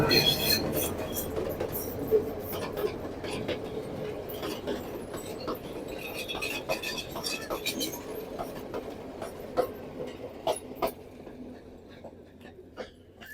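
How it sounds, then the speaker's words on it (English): A short train arrives at the station in Ella, Sri Lanka, a rolling rumble with rhythmic wheel clicks and faint squeals that slowly fades, while people on the platform talk close by. "The train is here finally."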